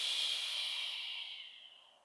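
A long, steady breath pushed out through the mouth during yoga practice, airy and hissy, starting strong and fading gradually over about two seconds, close and alone with no talk.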